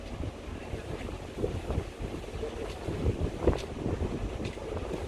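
Houseboat engine accelerating on the backwaters at Kumarakom, Kerala, as a steady low rumble with wind noise and water wash, continuous and fairly loud.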